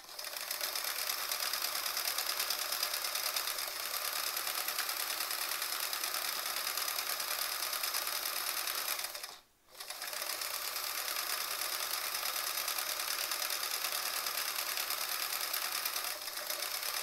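A sewing machine stitches quilt blocks in a steady, fast, even whir that runs continuously, stops briefly near the middle, then resumes at the same pace and loudness.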